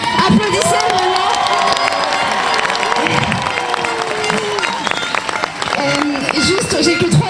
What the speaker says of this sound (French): mais applaudissez vraiment